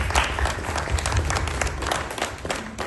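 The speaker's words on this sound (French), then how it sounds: "je vous demande de les applaudir chaleureusement" An audience at a student forum at the Cité Universitaire applauds warmly, thick continuous clapping from a sizeable crowd that keeps an even level throughout.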